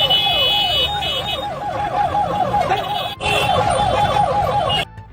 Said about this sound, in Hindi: ये बच्चा पीएम मोदी की रैली की वजह से एक एम्बुलेंस में फंसा हुआ है